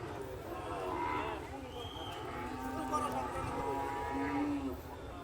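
Calves at a busy cattle market low and moo repeatedly, some calls near and drawn out, over a constant crowd hubbub and background chatter.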